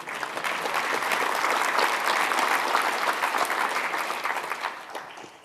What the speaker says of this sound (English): You can clap if you like it.